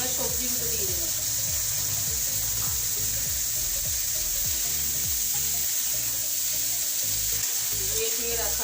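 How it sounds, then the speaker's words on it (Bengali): Vegetables frying in a pan with half-fried garlic and asafoetida, a continuous close sizzle broken by repeated scraping stirs, with some water-like splashing mixed in. "এটা হাফ ভাজলাম রসুনটা, এবার সবজিগুলো দিয়ে দিলাম।"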